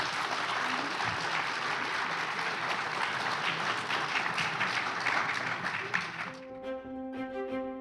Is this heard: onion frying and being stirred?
no